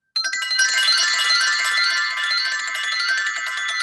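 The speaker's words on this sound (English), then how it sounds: "It's called a carousel bell," A carousel bell used in a classroom to call students back to their seats rings out in a bright, sustained metallic jangle, loud and close, lasting about four seconds with no talk over it.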